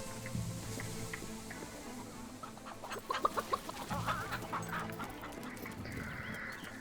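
A chicken in the video game Fable 3 clucks repeatedly in short, choppy bursts, growing busier midway, with faint background ambience and no talking.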